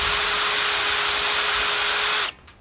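Power drill boring out rivets on a mini excavator rear cover, a loud steady high whine for two seconds that cuts off abruptly, followed by a short click.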